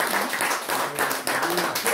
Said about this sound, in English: Can we clap our hands to the Lord?